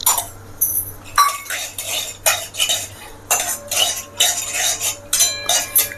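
Cashews tipped into melted ghee in a pan over a low flame, heard as loud, close metallic clinks and scrapes of a spoon stirring against the pan in irregular bursts, with faint sizzling underneath.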